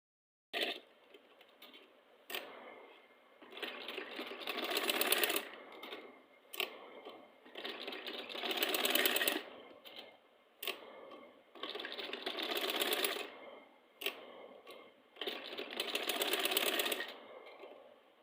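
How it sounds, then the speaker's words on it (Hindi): A sewing machine stitches a suit at home. It runs in several sustained whirring, rattling bursts with short pauses between them, close and fairly loud, with no talking. "आज मुझे अपना सूट भी सीना है"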